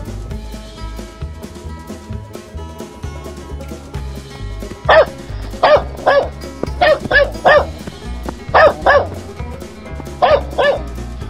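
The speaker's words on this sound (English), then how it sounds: "Dog." A dog in an animal video game barks in quick bursts, several sharp yips in pairs and clusters, loud and near over ongoing game music.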